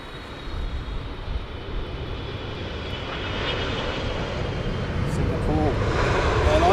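A Singapore Airlines jet airliner at Heathrow Airport gives a broad, steady engine roar that swells slowly louder over several seconds, with a faint tonal whine rising near the end.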